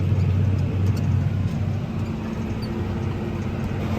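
Tractor engine running steadily under heavy load, around 75 to 100% power, while working a muddy field diagonally; a continuous loud low drone and rumble with no pauses.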